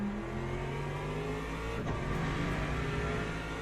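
Hypercar engines at a World Endurance Championship race in Qatar roar steadily, revving and droning as cars pass, with a brief surge of a car going by mid-way; no voices.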